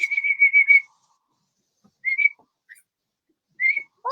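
A person whistles close by: a warbling run of short tremolo notes, then two brief isolated whistled phrases separated by quiet pauses.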